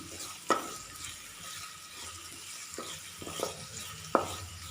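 Mustard seeds, shallots, dried red chillies and curry leaves sizzle in hot oil for a tempering poured over Kerala-style dal curry, a steady soft fry with a few sharp crackling pops, close and alone without talk.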